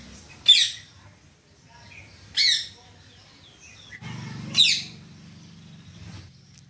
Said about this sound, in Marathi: साळुंकी मस्त ओरडते बघा.